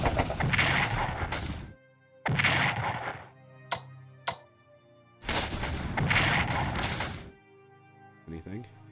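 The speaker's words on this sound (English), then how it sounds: "Artillery." Artillery fire in the World War 1 strategy game Strategic Command: loud, booming blasts in two long bursts, with a couple of sharp short cracks between them and a brief rattling tail at the end.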